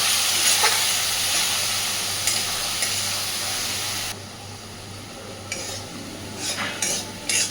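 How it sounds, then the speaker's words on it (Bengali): Fried onion with a poppy seed and green chilli paste is stirred in a frying pan: a steady close sizzle with scraping strokes of a utensil, quieter in the second half, with sharper scrapes near the end. "নাড়াচাড়া করে মিশিয়ে দেবো সব কিছুকে"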